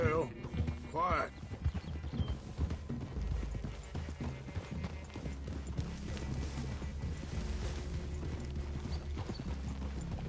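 Horse hooves clip-clop steadily in the video game Red Dead, a continuous rhythmic patter of several horses under background music, with a brief whinny near the start.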